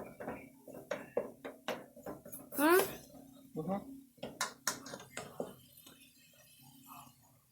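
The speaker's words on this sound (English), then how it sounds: "you move it around a bunch so that the uncooked meat can get cooked in the pan" Meat sauce stirred around in a pan, with metal utensils scraping and clinking against cookware in short irregular bursts, while a person talks over it nearby.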